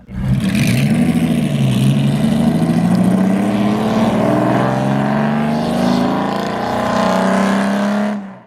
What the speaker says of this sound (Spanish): Vale, hora de conducir el Jarama.